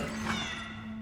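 A cat meows in the Cronos: The New Dawn video game, a single short call heard close and clear over a steady low tonal hum from the game's background.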